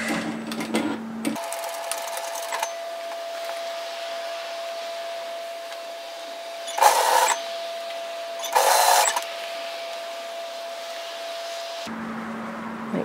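A domestic sewing machine runs in a steady whirring stitch while sewing a 1 centimetre seam through bulky jacket fabric, its motor note unbroken across most of the passage and cut by two brief louder bursts near the end.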